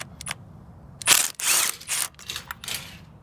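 A spark plug being pulled from the engine of a 2003 Toyota Corolla, with a few short metallic clicks and scrapes followed by louder rasping bursts of tool and metal, close and fairly loud, with no talking.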